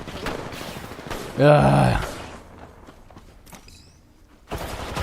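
Bursts of gunfire in a video game crackle as sharp, rapid shots, mostly in the background, while a player talks over the action.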